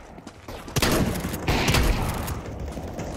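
Gunfire from Counter-Strike 2 crackles in a dense burst of shots that starts suddenly partway through, with several loud, sharp reports layered over a rumbling game soundscape.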